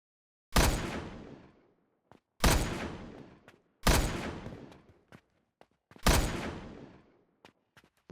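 Video game gunfire: four heavy, booming shots spaced about one and a half seconds apart, each trailing off in a long rumbling decay, with faint clicks in between and no talking.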